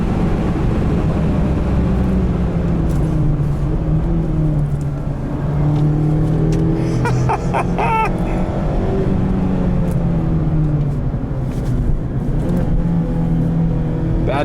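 A 2019 Mazda MX-5 RF on a test track, heard from inside the cabin: the engine drones and revs continuously, pitch climbing and dropping through gear changes including a downshift, loud and close against steady road and wind noise.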